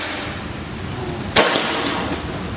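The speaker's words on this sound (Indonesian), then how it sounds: "Oke, ini tembakan kedua." Single sharp crack of a Bocap FX PCP air rifle shot, one short loud report with a brief metallic ring afterward, heard over a steady outdoor background hiss.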